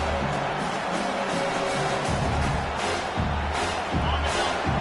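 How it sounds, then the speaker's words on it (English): A college football stadium crowd roaring on third down, a loud, steady wall of cheering and noise with no break. "Decibels rising as the crowd gets behind this defense on 3rd down"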